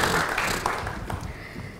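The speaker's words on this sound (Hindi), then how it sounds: "जोरदार तालियां वीर सावरकर के लिए।" An audience claps enthusiastically for the film Veer Savarkar in an interview setting, a dense burst of applause that starts loud and gradually thins out over a couple of seconds.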